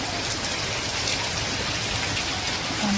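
Steady rain falls and patters on surfaces, a dense, even hiss of drops continuing throughout with no voices.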